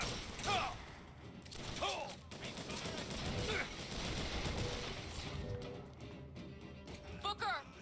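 Turret gunfire in the video game BioShock Infinite: rapid bursts of shots rattle over a dense, noisy battle mix, with voices calling out over the shooting.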